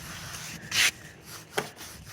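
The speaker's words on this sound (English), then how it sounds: "How quickly it cleans the coat, and how quickly you can see the shine with this brush." Brush strokes over a horse's muddy winter coat, two brisk scrubbing rubs standing out close and clear against a quiet background, with fainter bristle sweeps between them.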